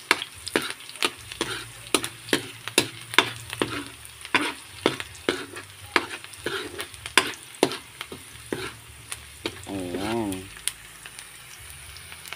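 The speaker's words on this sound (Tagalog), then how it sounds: "Ayan, gisay lang natin to guys." Onion and garlic sauté in a pan, with a constant sizzle broken by regular clinks and scrapes of a utensil stirring. Near the end a voice speaks briefly over the cooking.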